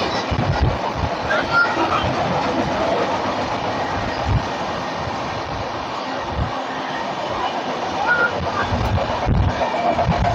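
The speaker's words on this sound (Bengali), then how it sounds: "আমাদের লোকাল ট্রেন কিন্তু আবারও ছেড়ে দিল" Running Digha to Howrah local train heard from on board, a dense steady rumble with clattering wheel beats and faint voices mixed in.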